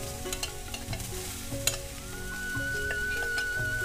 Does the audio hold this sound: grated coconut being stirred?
yes